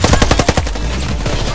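Rapid automatic gunfire in the shooter video game Warface, a loud close burst of evenly spaced shots that gives way to a denser, rougher spray of fire, with no talking over it.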